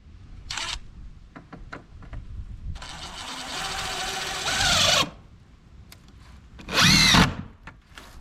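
A power drill drives 3.5-inch screws fitted with plastic washers into insulation on an off-grid home in two loud bursts, a long run of roughly two seconds and a shorter one, with quiet handling sounds between and no talk.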